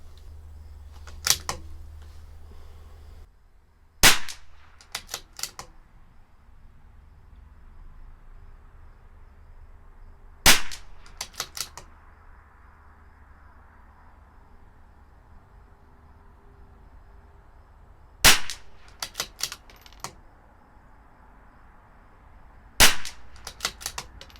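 CZ 457 LRP rimfire rifle with IBI barrel fires RWS Club ammunition: five sharp, cracking shots spaced several seconds apart, each followed by faint echoes, over a quiet outdoor background with insects chirping.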